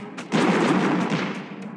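A mortar fires in Clash of Clans, a loud muffled game boom with a sustained rumbling tail of about a second and a half, heard alone.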